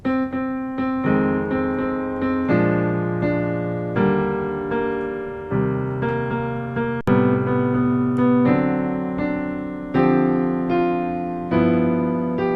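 Jazz piano chords played alone, one sustained chord after another in a steady, unhurried rhythm, each ringing out before the next.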